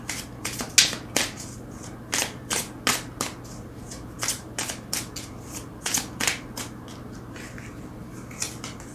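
Tarot cards shuffled and drawn close up, a run of sharp papery flicks and snaps in an irregular rhythm, with no talking.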